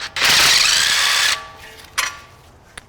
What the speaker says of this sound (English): then you can start using power tools to take the rest of it off.